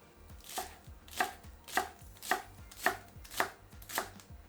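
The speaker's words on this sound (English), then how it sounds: "Next, dice the green onions." Steady knife dicing green onions on a cutting board, about seven evenly spaced crisp thunks with light rustle between, close and fairly loud, no talking.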